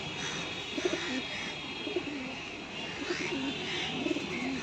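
Soft, repeated cooing of pigeons, several low throaty coos spaced a second or so apart, fairly quiet and close.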